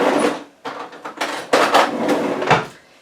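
Soaked beans tipped into a slow cooker, a close run of rattling, pattering pours in several bursts with knocks against the pot, loud and on their own.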